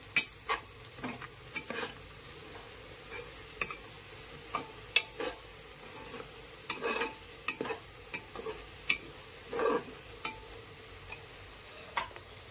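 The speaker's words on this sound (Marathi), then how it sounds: "ते सर्व मसाले टाकून देऊ। ते हलवून घेऊ आपण।" A spoon scrapes and stirs spices into khichdi frying in a pan, with irregular close clinks and scrapes over a soft, steady sizzle and no talking.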